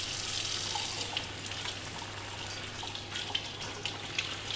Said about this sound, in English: Just run it under a tap. Wash the excess salt and sugar off.